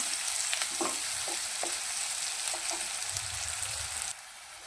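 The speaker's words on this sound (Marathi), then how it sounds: "मीठ टाकल्यामुळे एकदम पटकन भाजला जातो कांदा।" Chopped onion fries with salt in a pan, a steady loud sizzle broken by a few soft stirring scrapes, with no voice present.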